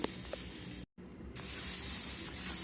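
Chopped tomatoes hitting hot oil in a pan for spicy egg curry, a bright spraying sizzle that breaks off for a moment, then resumes as a steady, close hiss.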